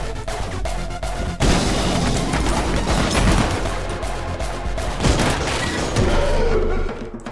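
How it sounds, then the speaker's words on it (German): Gunshots in the Anger Foot game amid chaotic action, a loud crashing burst with booming impacts and dense clattering noise, near and forceful throughout. "Und dann wieder ein Schuss."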